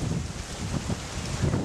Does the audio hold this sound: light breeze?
yes